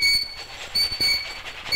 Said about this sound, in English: What a speedy train!